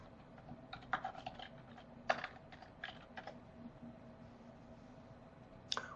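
Soft, fairly faint keystrokes tap out a name on a computer keyboard while using Microsoft Teams, coming in scattered clusters with short gaps and no speech over them.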